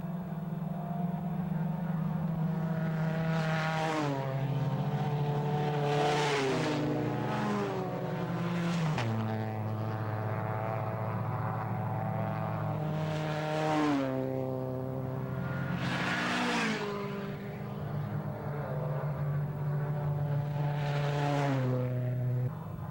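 A race car engine running with at least one cylinder out drones at a lower pitch, then repeatedly surges and drops as it revs up and shifts, loud and close, with other engines passing.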